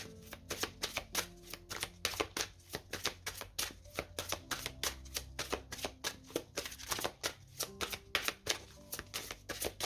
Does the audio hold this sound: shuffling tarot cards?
yes